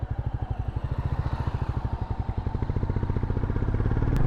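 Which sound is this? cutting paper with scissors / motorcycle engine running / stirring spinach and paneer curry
motorcycle engine running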